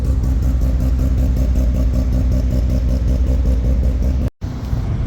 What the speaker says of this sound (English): Just hear that beautiful rotary for a second